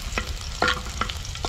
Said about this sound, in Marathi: त्याच्यामध्ये हा लसूण घालून घेऊया.